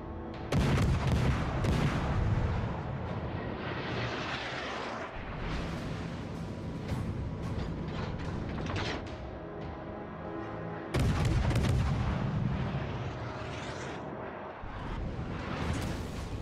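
Heavy naval guns firing in World of Warships Legends, loud booming salvos with rolling echoes, a big blast near the start and another around the middle, continuous battle din between shots.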